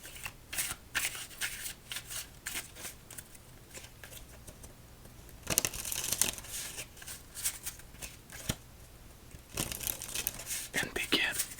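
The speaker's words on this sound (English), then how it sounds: "Let's give it 2 more riffle shuffles with some side cuts." A deck of astrology-themed playing cards gets riffle shuffled with side cuts, giving close, quiet bursts of rapid flapping and crisp riffling separated by softer handling, with low speech at points.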